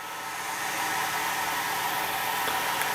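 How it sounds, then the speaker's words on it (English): The air assist pump of a laser engraver runs on a workbench, giving a steady, even hiss of airflow that holds at the same level throughout, close by with no talk over it. "there's the air pump, which is the air assist"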